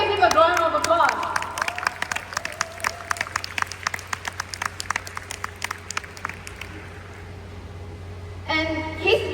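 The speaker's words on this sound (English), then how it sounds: "Why don't we give him a round of applause?" An audience at a Young Living Taiwan ninth-anniversary gathering gives a modest round of applause, with scattered individual claps fading out over several seconds, and a speaker's voice heard at the start and again at the end.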